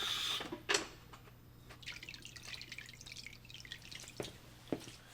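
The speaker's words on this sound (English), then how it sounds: "I already hear that it's leaking." Water dripping and trickling from a leaking Aquael Ultra Max aquarium canister filter, with a few sharper drip hits against a steady low hum and splashy trickle, fairly quiet and close, no talking.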